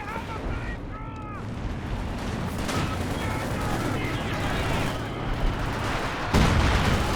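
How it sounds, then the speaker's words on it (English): Howitzer artillery fire rumbles in the video game Company of Heroes 2, with deep booms and scattered gunfire building under a voice, ending in a heavy blast near the close. "A bit of howitz action coming through for ToxicGrenadier, kind of targeting the mortar pit region."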